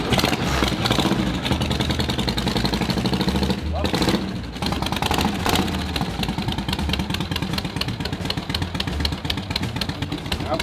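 A 1959 Harley-Davidson Panshovel with a Super E carburetor idles and revs nearby, a steady loud engine throb with brief dips and surges, while people talk over it.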